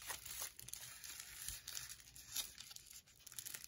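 Taped packaging torn open around a graded slab trading card, giving soft, close crinkling and ripping of tape and plastic in brief uneven bursts at a quiet level.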